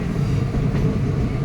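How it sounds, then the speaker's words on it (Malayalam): Madurai-Guruvayoor Express running on the main line, a steady, close rumble of wheels and carriages with faint clatter, continuous throughout and without voices. "നമ്മൾ സ്റ്റേഷനിൽ നിന്ന് ട്രെയിൻ എടുത്തിരിക്കുകയാണ്"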